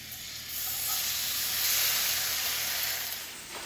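Rice frying in butter in a preheated cast iron skillet over medium heat gives a steady, bright sizzling hiss that swells gently and then eases off, close and continuous, with no talking.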